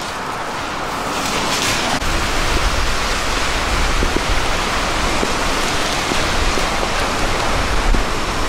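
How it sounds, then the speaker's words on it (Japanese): Swollen river in Nagasaki rushing after rain, a steady loud broadband roar of water filling the whole stretch, constant and close with no voices. "川が増水してるわ。"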